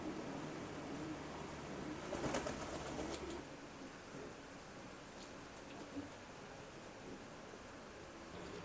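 Racing pigeons in a roomy stock loft with a big aviary, their faint, steady cooing forming a low murmur, with a few brief flutters and scuffles near the start.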